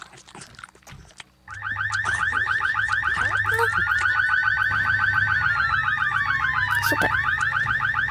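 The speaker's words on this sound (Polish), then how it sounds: "Dobrze, że mam alarm." A burglar alarm in The Sims 2 starts up abruptly and keeps wailing in a fast, loud repeating electronic warble, with a brief word spoken just before it begins.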